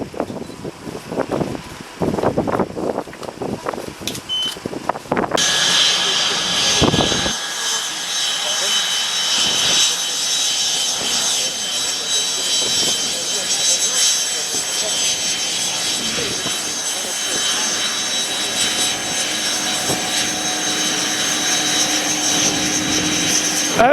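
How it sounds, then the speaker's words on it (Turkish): Air ambulance airplane at an airport in Ağrı, its engines running with a loud, steady roar and a high whine that holds for most of the clip, after a few seconds of people talking nearby. "Bakınız arkamda duran uçak"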